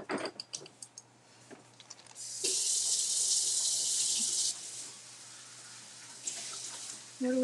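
Tap water runs into a sink or container to refill a painting water cup, a steady broadband rush for about two seconds that drops back, with faint clatter before and after and no talk.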